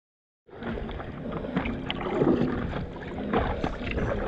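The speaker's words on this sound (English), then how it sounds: "I know you can see me down there, paddling away. It's a bit windy." Paddles dip and splash steadily as a small boat is rowed off Ksamil Island in Albania, with wind gusting across the microphone and a low continuous rush of water close by.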